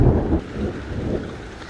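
Rain falls in Manisa, Turkey, as a steady, dense hiss that is fairly loud and continuous, with a slightly stronger gust at the start and no voices.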